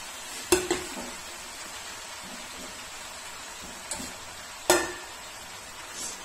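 Greens (saag) frying in a pan and being stirred, with a soft, steady sizzle running underneath and a few sharp clicks and scrapes of the spoon against the pan, and no voices.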